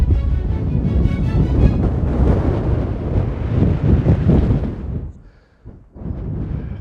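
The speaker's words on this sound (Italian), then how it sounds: "Attenzione che il vento soffia veramente molto," Very strong wind blows at the Nuraghe Santa Barbara near Macomer, Sardinia, roaring and buffeting the microphone loudly and continuously before easing briefly near the end and then surging back.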